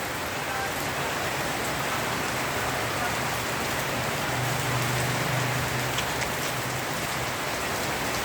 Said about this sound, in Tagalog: malakas po ang ulan at ang hangin mga ka-farmers